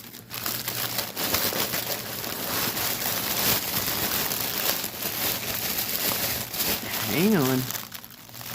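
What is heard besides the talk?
crinkling plastic bag from a cross stitch kit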